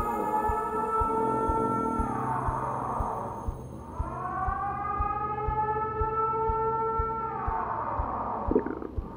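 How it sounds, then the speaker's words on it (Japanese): A siren wails in long rising and falling sweeps, loud and steady, over a low rhythmic rumbling background, in the horror video game The ER: Patient Typhon. "サイレンが鳴ってるな。"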